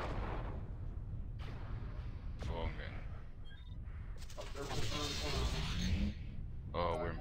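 Gunfire in the mech game MWLL aimed at an Argus, heavy booming shots and bursts in a busy sequence, mixed with a voice over the action.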